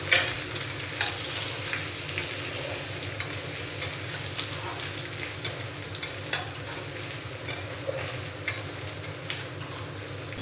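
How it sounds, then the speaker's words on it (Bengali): Fried potatoes and drumstick pieces stirred in a hot pan with fried onion, a steady oily sizzle with sharp scraping knocks of the spoon against the pan at irregular intervals, close and alone. "ভেজে রাখা আলু আর সজনে ডাঁটা দিয়ে আমি 2 থেকে 3 মিনিট নাড়াচাড়া করে নিয়েছি।"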